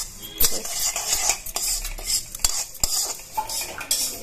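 Lentils being stirred and dry-roasted in a pan in a home kitchen, a spoon scraping and clinking against the metal repeatedly in an irregular rhythm, close and clear with a faint sizzle and no talking.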